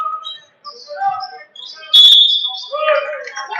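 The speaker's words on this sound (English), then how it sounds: "And a whistle on the foul." A referee's whistle blows sharply once during a men's college basketball game, loud and piercing for about half a second, surrounded by arena noise and commentary.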